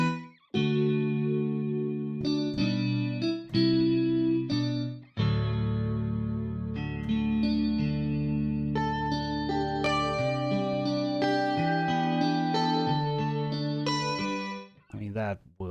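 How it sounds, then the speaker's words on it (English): Stereo synth patch from the Fracturesound Hemisphere instrument with chorus, played as sustained chords and held low notes over about fifteen seconds, wide and loud, with brief gaps between phrases. "This patch seems to be stereo, have chorus and depth and width."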